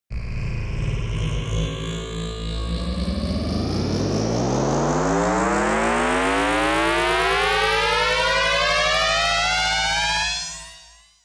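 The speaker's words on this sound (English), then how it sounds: "here's the result with FRQ Shift engaged" Frequency-shifter plugin effect with automation: a dense, distorted siren-like tone sweeps steadily upward across many harmonics over about ten seconds, loud and continuous, then cuts off.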